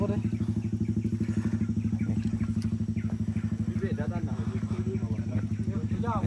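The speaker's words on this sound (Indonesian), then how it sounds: "Dan ini jadi motornya nih." A Suzuki Satria motorcycle runs close by on a steep rural road, its engine thumping in a fast, even pulse, with brief chirpy noises scattered above it and no clear speech.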